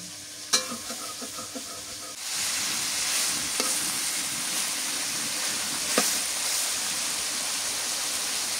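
Vegetables frying in a pan for a village-style Bangladeshi curry of beans, potato and dried fish: a few sharp clinks of a utensil at the start, then a steady, close, even sizzle running on without talk.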